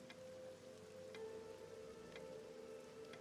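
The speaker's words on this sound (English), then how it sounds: "you can hear the rain sort of running along the metal and then dripping down onto the coal below it" Rain runs along a metal chute and drips onto coal below, a faint steady wash with a low hum and a few sharp drip ticks spaced about a second apart.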